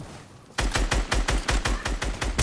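Rapid gunfire in the video game Fortnite: after a quiet moment, a steady burst of about ten evenly spaced, sharp shots rings out loud and close.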